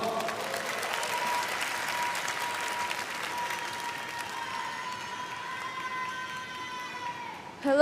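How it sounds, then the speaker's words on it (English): Sustained applause from an audience fills the room, steady and even, with a soft tone underneath and a sudden louder burst at the very end, welcoming a speaker at a student event in Korea. "Let's welcome him with a round of applause."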